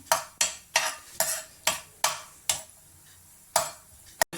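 Cashews frying in ghee for aval payasam, stirred in the pan: close, rhythmic scraping strokes about twice a second over a faint sizzle, with a gap near the end and no talking.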